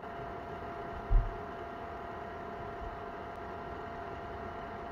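A portable mini fan heater runs for winter car camping, giving a steady, soft whoosh of blown warm air with a faint hum and one brief low thump early on.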